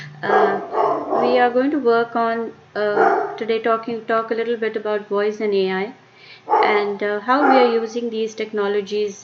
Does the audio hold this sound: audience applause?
no